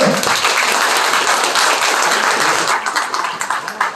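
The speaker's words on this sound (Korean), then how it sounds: "네, 박수 부탁드립니다." A crowd at a Korean political campaign event bursts into sustained applause, a loud, dense roar of clapping that holds steady and thins slightly toward the end.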